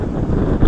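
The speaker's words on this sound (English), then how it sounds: "It's really windy." Strong wind from Hurricane Helene buffets the microphone in a steady, loud rumbling roar near rising water, with no voices over it.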